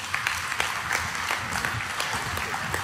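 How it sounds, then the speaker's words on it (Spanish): A congregation in a church service claps together in steady, moderately quiet applause, a continuous patter of many hands with no speech. "Den un aplauso a Cristo"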